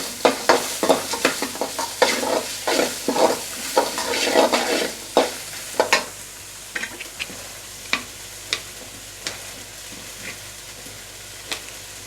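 Chopped garlic sizzles in hot oil in a pan over a medium flame, the base for a crab gravy, with steady frying hiss and repeated sharp spatula scrapes and taps that thin out to occasional clicks toward the end.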